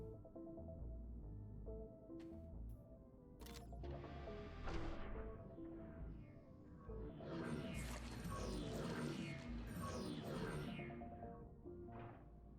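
A shuttle launches from its shuttle bay in the space-hospital game Galacticare, a dense mechanical whoosh that swells and roars over a steady hum with clunks, building to a broad rushing burst before trailing off.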